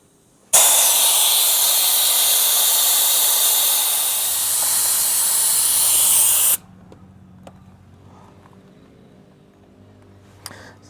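Air rushes out of a 35-inch off-road tyre through an opened valve with the core removed, a loud steady broadband hiss lasting about six seconds before cutting off abruptly, leaving quiet background.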